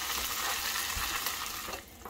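Green pipián sauce cooking in a pan, a steady bubbling sizzle that stays even and continuous, then eases off slightly at the end, with no talk.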